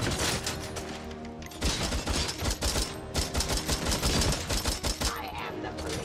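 Rapid assault rifle fire in the RoboCop Rogue City video game, loud close bursts of gunfire rattling almost continuously with brief gaps between strings of shots.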